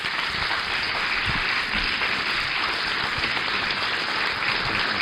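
Loud, sustained audience applause at a Memorial Day service as a senator and retired lieutenant colonel comes up, dense crowd clapping filling the whole stretch without speech.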